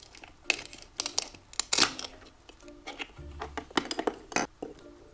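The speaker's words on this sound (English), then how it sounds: "we'll add some tomato to our salad. But first we need to slice it." A knife slices two tomatoes for a salad, giving irregular sharp taps and clicks against the cutting surface, close and fairly crisp.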